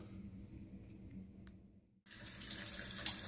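A bathroom tap turned on to fill a sink with hot water for washing the face before a straight razor shave: a low hum gives way after a short gap to a steady, fairly close hiss of running water.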